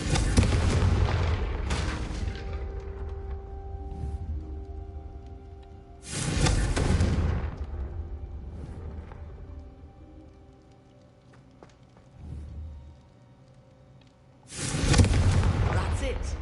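Confringo fire spell blasts in Hogwarts Legacy, three heavy booming explosions with crackling tails spaced several seconds apart, loud and close, with voices talking between them.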